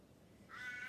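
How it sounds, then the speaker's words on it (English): A single short caw from a crow behind an outdoor deck, faint and somewhat distant, rising briefly above quiet background ambience. "I've got a noisy crow back there."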